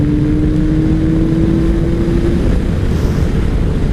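A 2003 Kawasaki ZR7S motorcycle engine drones steadily while riding in cold weather, under heavy wind rush buffeting the microphone, with a faint steady tone fading partway through.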